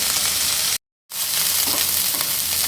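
Bitter gourd fries in a pan with a loud, close, continuous sizzle, broken by a brief total dropout, then resuming with soft stirring scrapes mixed into the hiss.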